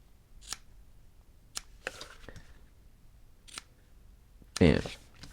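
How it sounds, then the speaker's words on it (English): Scissors snip fabric for a tote bag, a few short crisp cuts spaced apart with one louder, longer snip near the end, heard close up with quiet room noise between. "then I'm going to cut down the triangle. And when you cut, you want to make sure you're not cutting into your stitches."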